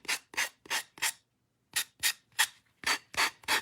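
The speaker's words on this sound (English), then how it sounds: "I'm just really lightly sanding off the edge here, just so that it has a nice finished edge." Light rubbing strokes of sandpaper, ten short scrapes in two quick bursts with a pause between, close and fairly soft.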